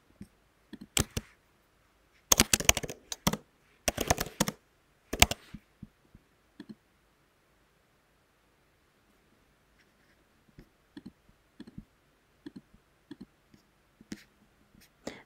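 Rapid computer clicks come in tight clusters, then sparser single taps after a quiet pause, close and crisp at the desk while an email signature is set up.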